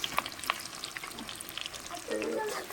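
Onions frying in a pan with whole spices for mutton curry, a soft crackling sizzle broken by a few sharp pops and a short scrape of stirring near the end.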